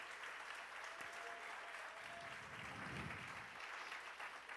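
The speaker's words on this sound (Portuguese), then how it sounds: "Pode aplaudir o Senhor com as mãos bem forte" A congregation at a church service claps hands together in sustained, dense applause, a steady wash of clapping that holds throughout at a fairly distant, even level.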